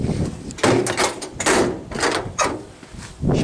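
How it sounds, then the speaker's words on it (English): Door of a 2001 GMC truck with a lumber rack being shut, heard as about four solid thuds and latch clunks spaced roughly a second apart, close and fairly loud over low background rumble. "shut the door"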